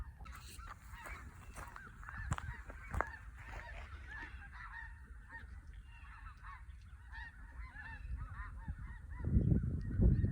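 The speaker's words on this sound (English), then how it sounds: "there goes some more geese flying over" Flock of geese honking as they fly over a farm in wintertime, repeated calls fairly near and clear throughout, with a low rumble of wind or handling noise rising near the end.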